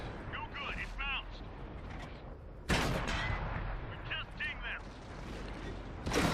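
Tank cannon fire from a T67 in a video game: two heavy, sharp booms land a few seconds apart over a steady mechanical engine rumble, with fainter game sounds in between.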